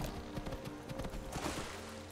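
Horse hooves in Skyrim: a steady, quiet clip-clop of hoofbeats at a trotting rhythm, fairly close, with no talk over it.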